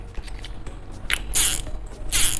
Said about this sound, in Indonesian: klikernya kayak reel pada umumnya seperti ini